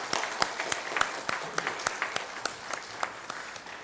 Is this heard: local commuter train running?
no